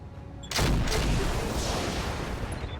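Heavy weapon fire from battlemechs in the RogueTech mod of BattleTech erupts after a half-second lull, a dense roaring barrage of booms and blasts that rolls on loudly, without a pause.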